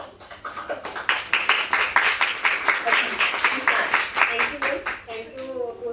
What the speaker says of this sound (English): Please join me to welcome Dr. Suman Singh with big round of applause